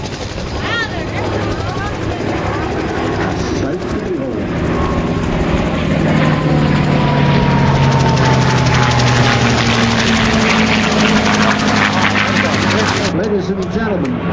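A P-51 Mustang fighter's piston engine drones loudly and continuously with a rough, throbbing roar that swells as it passes, heard close and unbroken throughout.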